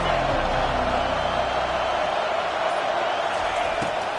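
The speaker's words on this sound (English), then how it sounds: "listen to this crowd roar" A dense, continuous roar from a large American football stadium crowd fills the space at constant loudness, with a faint low thump near the start.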